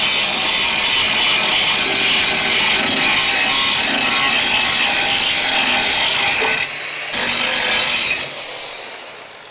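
A grinder works a car body metal edge on a Crew Cab Charger, a steady loud abrasive whine and rasp running continuously, dropping out briefly near the end before trailing off quieter.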